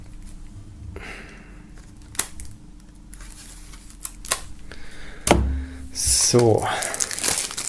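Plastic foil being torn and pulled off a CD sampler, with crinkling and sharp rustling bursts near the end, preceded by scattered clicks and handling noises while someone speaks briefly.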